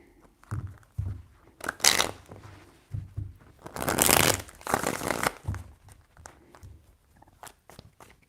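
Tarot cards being shuffled by hand, a series of soft riffling and papery flutter bursts close up, with quiet pauses between the shuffles and no talking.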